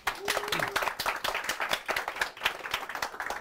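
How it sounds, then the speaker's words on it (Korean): A small forum audience at a panel talk claps for the stenographers transcribing the session, a fairly close patter of individual hand claps with some voices mixed in. "그래서 박수 부탁드리겠습니다."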